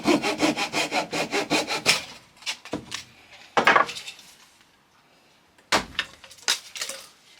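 A hand saw with a fresh blade cuts a curve through wood clamped to a low bench, fast rhythmic rasping strokes at first, then shorter, sparser strokes with pauses, close and loud, no talking.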